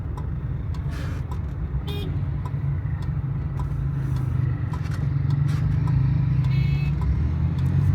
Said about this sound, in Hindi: ये है सूरत हाल ट्रैफिक दी।